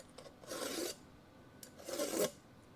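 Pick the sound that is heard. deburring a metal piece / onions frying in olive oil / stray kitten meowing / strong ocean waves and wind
deburring a metal piece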